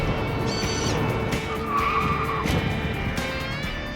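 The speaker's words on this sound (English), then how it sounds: "I saw some tire skids" A car driving in reverse on a test track lets out short, high tire squeals and skids over a rough engine rumble, with a couple of sharp chirps close by.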